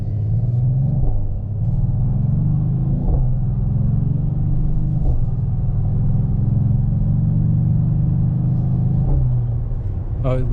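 A deep, continuous V8 exhaust rumble from a moving Mercedes-AMG GT 43 four-door coupe, loud and steady with small periodic surges.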